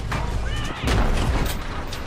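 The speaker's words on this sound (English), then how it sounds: "able to send the enemy scattering as its machine guns and cannons erupt" A tank in a video game fires its machine guns and cannons in heavy booming bursts, one big blast landing partway through. The firing is loud and close, with a voice faintly underneath.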